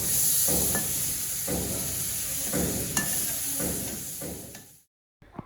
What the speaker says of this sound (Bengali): এখন রান্না করতেছি শাপলা